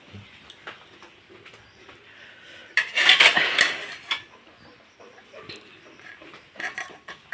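Pots, dishes and cutlery clatter in a home kitchen while rice is being covered, with light scattered clinks that swell into a short burst of loud metallic banging midway, then ease back to sparse taps.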